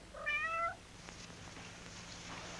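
A single cat meows once, clear and fairly close, in a short rising-falling call inside a kitchen where a catfish is being cooked, then the room falls to quiet hum.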